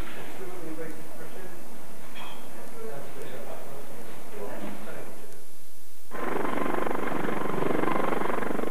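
Muffled voices and low cabin rumble give way to a loud, steady rotor and engine roar of a London air ambulance helicopter in flight for the last few seconds.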